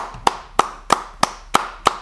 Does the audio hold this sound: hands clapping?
yes